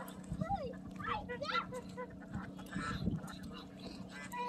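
Geese and ducks honk and quack in short bursts near the microphone while on water, with a steady low hum of water or machinery underneath and some voices mixed in.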